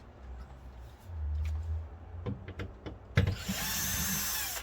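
A cordless power drill whirs in short bursts while backing out the screws on an Audi Q7 4L door speaker, with clicks and handling noises between runs and a brighter, higher whine near the end.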